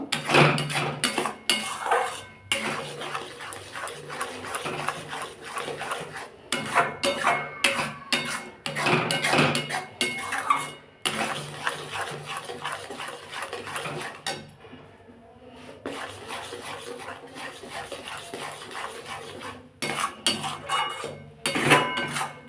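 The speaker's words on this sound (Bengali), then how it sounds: "এটা সমানে নাড়তে হবে শুকনো করার জন্য" A spoon repeatedly scrapes and clatters against a pan while pea paste is stirred to dry it, close and moderately loud, in uneven bursts of metallic knocks with brief pauses.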